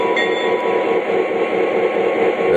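Lionel Legacy Conrail GP30 model diesel locomotive running at full sound volume, a loud, steady droning engine rumble with a faint high whine, continuous and close with no pauses.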